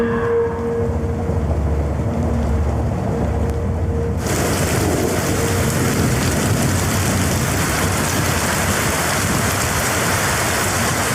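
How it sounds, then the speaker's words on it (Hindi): Heavy rain pours down in a dense, steady hiss during a storm, suddenly growing louder and fuller partway through, continuing without pause. "बारिश बहुत तेज है,"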